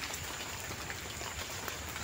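Rain falls on a rainy afternoon in a village as a soft, even, continuous hiss of patter, quiet and without voices.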